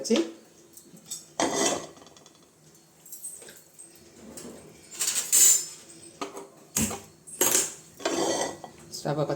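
Metal pan and utensils clattering on a kitchen stove, several sharp clanks and scrapes in irregular bursts, close and fairly quiet.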